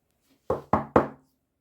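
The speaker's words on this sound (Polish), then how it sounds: "ciekawe, kto to puka." Three firm, evenly spaced knocks on a door ring out nearby after a brief silence, each with a short hollow decay.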